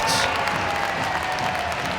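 A home crowd roars and applauds at a Sheffield Steelers versus Glasgow Clan Challenge Cup ice hockey game, a dense, loud wash of cheering that fills the arena without a break.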